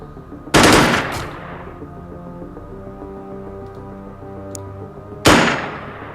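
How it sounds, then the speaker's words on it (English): Two loud, short bursts of gunfire in a video game, each a tight cluster of rapid shots with a ringing tail, separated by several seconds of a low humming game ambience. "Suppress this guy with burst fire."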